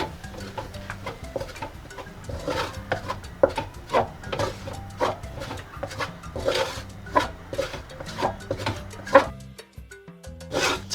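A spatula repeatedly scrapes and presses a thick flour dough in a titanium-alloy wok while making fried egg puffs, a close series of roughly a dozen rhythmic scraping strokes.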